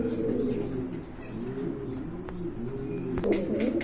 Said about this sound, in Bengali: আরেক জোড়া কোয়ালিটি ফুল কবুতর দেখতে পাচ্ছেন